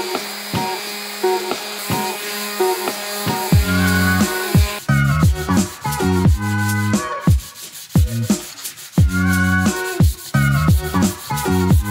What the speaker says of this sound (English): first I need to prepare the surface with some sandpaper